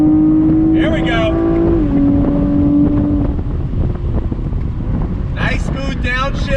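A 2021 Chevrolet Camaro RS convertible driving with the top down, its engine note humming steadily then stepping down through smooth downshifts under heavy wind rush, with a person speaking briefly at the start and end.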